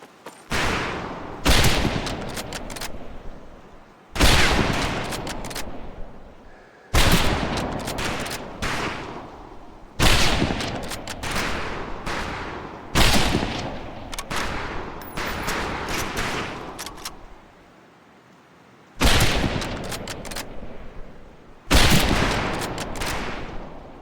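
Rifle range gunfire in the video game Medal of Honor Pacific Assault, loud repeated bursts of shots in clusters with brief pauses between volleys, heard close, no talk.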